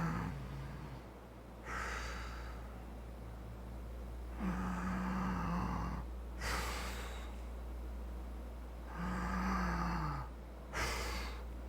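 A man imitates loud snoring with slow, rhythmic breaths: long rasping snorting inhales and exhales repeat roughly every four to five seconds, close and fairly loud, over a steady low hum.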